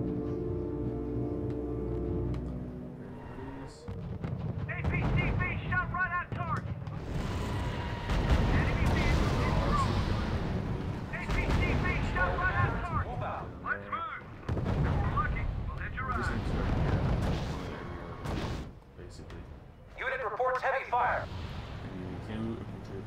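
Battle sounds from the R.U.S.E. strategy video game: artillery booms and bursts of gunfire roll and thud in repeated heavy waves. A voice talks intermittently over the combat.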